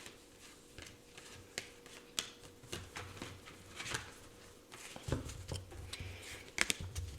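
Soft riffling and snapping of cards being shuffled, with crisp clicks scattered through a steady quiet rustle.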